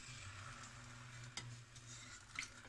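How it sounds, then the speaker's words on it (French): Sugar syrup is stirred in a saucepan with a wooden spoon while a soft sizzle runs steadily beneath, with faint scraping and occasional light ticks against the pan, quiet and close. "faut rester tout le temps à côté de la casserole et à remuer avec une cuillère en bois"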